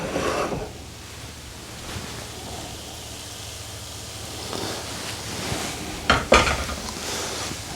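Chilies go into a pan over medium-low heat with onions for a beer curry, giving a soft steady sizzle and scraping stir, then a couple of sharper pan clatters near the end.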